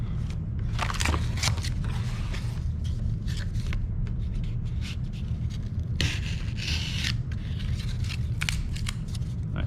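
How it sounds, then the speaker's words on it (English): Scissors snip through a piece of cardboard in a series of crisp, uneven cuts with scraping in between, heard close against a steady low background hum. "Let's cut another piece."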